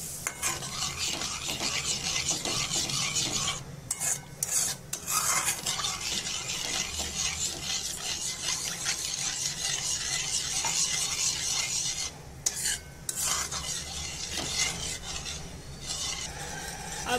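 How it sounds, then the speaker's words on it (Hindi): Continuous scraping and swishing of a spoon stirring a thickening cheese dip sauce in a pan, with a faint sizzle underneath, steady and close. "धीरे धीरे करके हमें डालना है और अच्छे से हिलाते रहना है"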